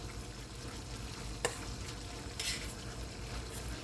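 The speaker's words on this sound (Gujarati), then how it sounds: "થોડો થોડો નાખી દઈશું અને હલાવતા જઈશું." Ground cashew, almond, walnut and melon seed powder stirred into a pan for Gundar Paak, a quiet soft scraping and faint sizzle with one sharp spoon tap on the pan, no talk.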